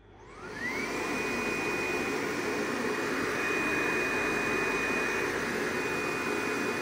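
The vacuum system of a Focus Cobra-691s corrugated printing machine starts up with a rising whine that settles into a loud, steady roar and high hum, running continuously with no talk.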